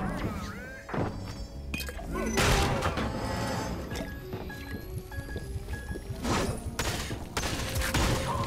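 Rapid drum gun fire in Fortnite, a dense run of overlapping shots and thuds over busy game sounds, loud and continuous, with explosive crashes mixed in.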